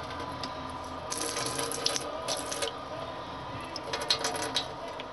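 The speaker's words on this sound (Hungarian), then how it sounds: "meleg víz" Hot water running from a tap, likely in a camper or boat fitted with a 12-volt water pump, giving a steady continuous splashing stream with a few brighter drips and spatters near the end.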